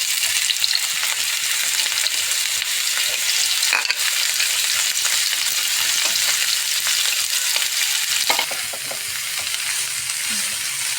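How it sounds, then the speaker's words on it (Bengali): Cauliflower florets frying in hot oil in a kadai for a roast, giving a steady, close, dense sizzle with occasional stirring clatter throughout. "ফুলকপিগুলো ভাজা ভাজা হয়ে গেছে এবার ওটা নামিয়ে দিচ্ছি"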